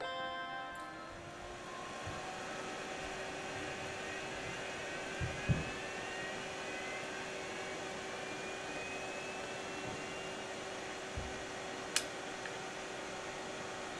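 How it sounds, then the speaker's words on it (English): Apple Macintosh IIfx computer powering on, its fan spinning up into a steady whirring hum with a rising tone, and a few faint clicks along the way. "hopefully you should be able to hear the computer like rev up and everything"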